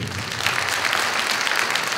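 An audience at a Los Angeles music festival concert applauds a sponsor's mention, steady, even clapping throughout with no voices.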